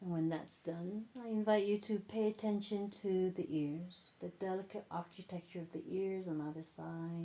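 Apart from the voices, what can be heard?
No distinct noise like a dog, phone or traffic.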